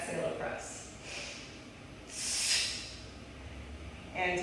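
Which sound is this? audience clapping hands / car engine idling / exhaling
exhaling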